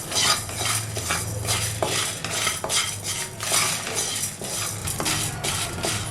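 Gongura leaves being fried in oil in a pan while a spoon stirs them, giving repeated scraping and clinking strokes over a steady low sizzle, close and fairly loud throughout.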